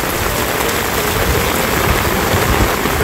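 Heavy monsoon rain pours down steadily in a Konkan village at night, a dense, loud, unbroken hiss of drops on surfaces with no pauses or voices.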